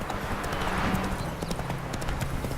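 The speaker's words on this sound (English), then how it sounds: "I wonder if you can actually run people over with your horse." Horse hooves pound at a gallop in The Witcher 3, a fast, close, steady clip-clop rhythm running throughout over a dense background of game sound.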